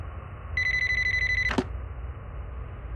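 A telephone rings in the video game Five Nights at Treasure Island 6.0, a single burst of clear electronic ringing with steady harmonic tones lasting about a second, followed by a brief click as the call connects, no talk.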